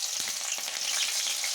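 Three green chillies drop into hot oil and fry with a dense, loud, unbroken sizzle, a couple of faint bumps underneath, close up with no voices.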